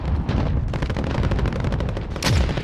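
Dense automatic gunfire in Call of Duty Warzone Plunder, rapid rhythmic shots crackling continuously at close range with a louder burst near the end.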